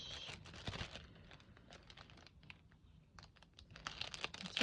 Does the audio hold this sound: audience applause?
no